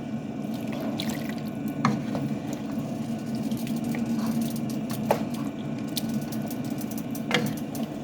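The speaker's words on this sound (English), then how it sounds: "we're just gonna stir that up" Turkey wings and white beans stirred in a pot: a steady wet sloshing of liquid, with a few soft clinks and squishes as the spoon moves through the beans.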